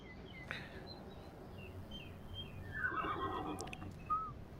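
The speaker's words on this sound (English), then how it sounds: "Oh, that sounded like a donkey? A horse. It was a horse, of course." A horse whinnies at a distance, a faint, wavering neigh rising briefly over steady low background noise.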